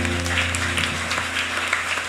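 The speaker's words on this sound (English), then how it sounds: "Clap your hands and praise the Lord." A church congregation claps hands during a live Lenten deliverance retreat in praise, a dense steady patter of applause over a sustained low musical drone, close and moderately loud for about two seconds.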